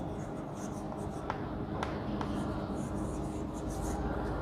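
Pen strokes on a board as mathematical notation is written out, a run of soft scratching squeaks and taps over a low, steady room background.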